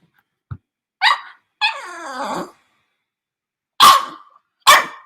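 A dog barking at its own reflection gives a short yip, then a couple of whiny barks and a drawn-out whimpering howl, followed by two sharp barks after a pause.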